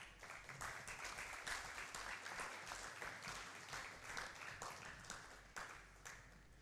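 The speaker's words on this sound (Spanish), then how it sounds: "Un aplauso, por favor." A crowd applauds steadily, a dense wash of clapping that holds strong for several seconds before starting to thin out.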